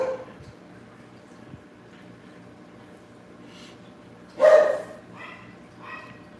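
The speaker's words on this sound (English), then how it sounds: "Dogs." Dogs bark once in a short loud burst partway through, with a fainter yelp after it, heard over steady low room hum near fish tanks.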